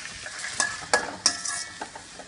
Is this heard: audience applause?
no